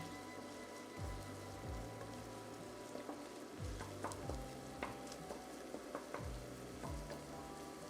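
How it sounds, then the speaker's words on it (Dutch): Flour and onions sizzle steadily in a frying pan, with soft periodic scraping and stirring sounds, fairly faint and close, with no talk. "Gaan we de bloem dadelijk even bakken."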